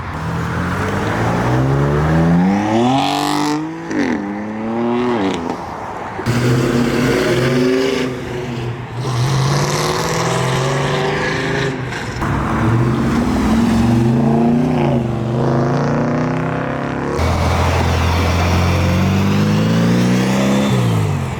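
Ford Mustang New Edge Cobra, likely a 2001, accelerating hard on a cold road, a loud rising engine roar through repeated gear changes with brief lifts between pulls, close and dominant, no talking.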